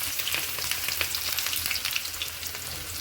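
Onions frying in hot oil with mustard seeds, urad dal and cumin, making a dense, steady crackling sizzle with quick popping bursts, close and continuous with no voices.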